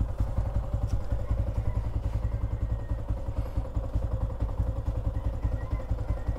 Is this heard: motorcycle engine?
yes